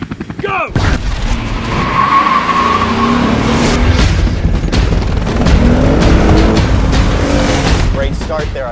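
A Lexus IS 350 F Sport launches hard from a standing start on a winding valley road. After a short pause, a loud engine roar with tire noise cuts in and holds steady and close for the rest of the run.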